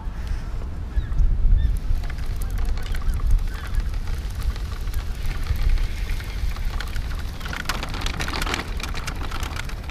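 Geese honk outdoors during an e-bike ride, scattered calls mixed into a steady hiss of wind and road noise, moderately loud and fairly near.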